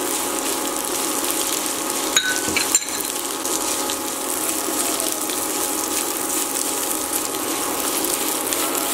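Long, thin-cut carrots go into a pan of lightly browned onions, giving a steady, even frying hiss throughout with a couple of brief clicks near the start.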